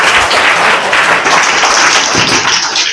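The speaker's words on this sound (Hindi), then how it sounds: "जोरदार तालियां हो जाए भाई इनके लिए" Loud, dense applause from a crowd, continuous clapping filling the whole moment without pause.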